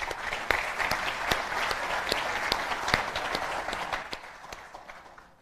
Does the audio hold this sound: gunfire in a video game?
no